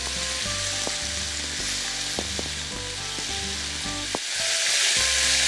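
Boneless beef short rib sears in a hot pan, a steady loud sizzle and crackle of frying that runs continuously and swells toward the end, with low background hum throughout.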